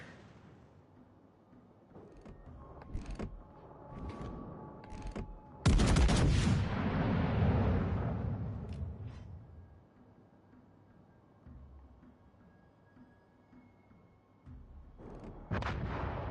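Heavy naval guns fire in World of Warships Legends as loud booming salvos and blasts, with one big burst midway followed by a long rumbling decay and scattered sharp shots before and after.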